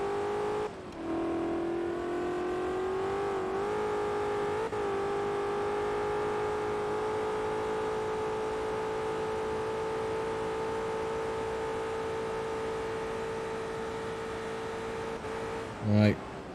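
Shelby Cobra engine in Forza Motorsport 2 holds a steady, loud, buzzy drone while the throttle is fed gently near the rev limiter, pitch nearly constant with a brief dip early and a sharp blip at the end.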